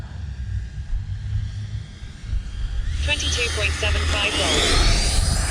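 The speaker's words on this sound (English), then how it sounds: "that 9-blade Freewing motor doesn't sound half bad" Freewing F-15 90mm RC jet with a 9-blade EDF motor, a loud steady ducted-fan roar and hiss that swells to a higher whine partway through, with someone talking over it.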